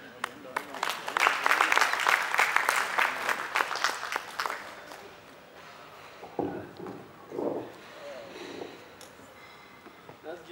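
Audience applause at a training session breaks out loudly for several seconds, then fades, and a speaker's voice carries over the thinning claps.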